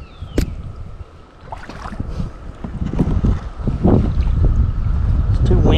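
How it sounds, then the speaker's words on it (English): Gusty wind buffets the microphone with low rumbling bursts, growing stronger over time, alongside splashing water outdoors while kayak fishing. "It's too windy."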